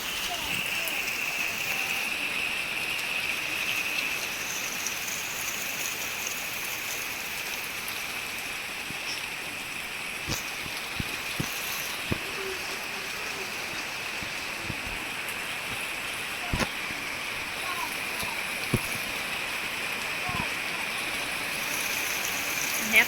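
Heavy rain falls steadily outside a house with a pumpkin vine, a dense, even hiss throughout with scattered louder drips and knocks close by.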